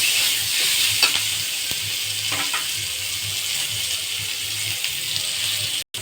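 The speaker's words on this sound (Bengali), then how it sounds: "পেঁয়াজগুলো একটু ভাজা ভাজা হবে।" Chopped onions fry in hot oil in a pan for egg curry with sour yogurt, a steady loud sizzle with faint stirring clicks, continuous and close.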